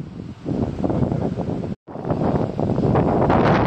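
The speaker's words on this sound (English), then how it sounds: "Probably 80-something mile per hour gusts" Strong wind gusts, reportedly around 80 mph, roar across a microphone on a stalled ski chairlift, a loud continuous buffeting rush broken by a brief cutout before surging back just as hard.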